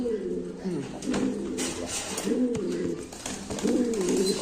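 Satinette pigeons coo on a farm in close, repeated low throaty bursts roughly every second, with soft background noise and a voice speaking nearby.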